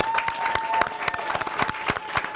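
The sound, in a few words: audience applause and cheering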